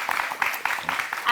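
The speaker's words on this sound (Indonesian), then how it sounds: "Boleh berikan tepuk tangan." Applause from a crowd, a brief burst of dense clapping with a busy, roomy texture.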